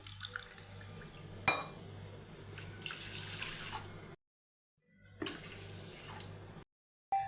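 Water pours in a steady stream onto washed rice, two cups per cup of rice, stopping briefly and then resuming, close by and moderately quiet.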